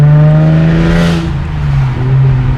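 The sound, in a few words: modified Hyundai Genesis Coupe 3.8 R-Spec engine while driving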